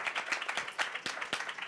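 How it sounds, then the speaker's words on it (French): An audience at a talk on comics and emancipation claps briefly, a close, lively patter of many hands lasting under two seconds. "on peut applaudir"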